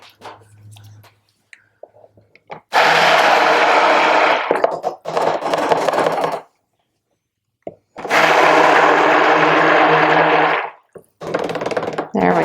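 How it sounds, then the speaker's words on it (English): A stick blender whirs through purple cold process soap batter in two loud sustained bursts of a few seconds each, separated by quieter handling noises and brief pauses. "Let's use our stick blender."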